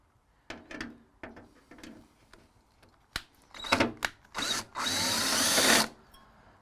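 A power drill backs a screw out of a custom metal patch in several short whirring bursts, separated by pauses and handling clatter, with a longer run near the end.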